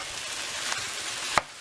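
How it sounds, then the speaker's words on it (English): Ground turkey sizzles and fries in a pan with onions and peppers, a steady close crackle with a couple of sharp clicks as it is stirred, no voices. "And we'll fry up all the turkey meat until that is nice and cooked"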